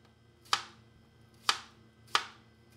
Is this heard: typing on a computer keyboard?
no